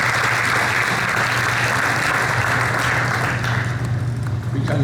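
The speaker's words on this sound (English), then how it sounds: "another round of applause for Sister Gilbreth" Applause rolls through the audience at a high school hall of fame ceremony, a loud, thick wall of clapping with a low steady hum underneath, continuing unbroken for the whole span.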